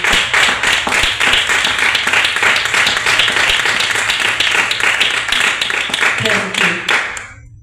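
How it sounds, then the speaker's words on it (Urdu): Audience at a women's church meeting claps loudly in a fast, fairly rhythmic burst of applause that holds steady for several seconds before cutting off abruptly, with a voice briefly audible at the end. "تو میں خدا کے خادم کے لیے میں کہتی ہوں زوردار تالیاں. اور یہ تالیاں جو ہے یہ دل سے ہونی چاہیے."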